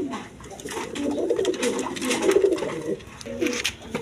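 Several pigeons coo steadily and close by throughout, a low throaty murmur from a pair of Moshol Dum and Kal Dum birds offered for sale at a pigeon seller's stall, with no talk over it.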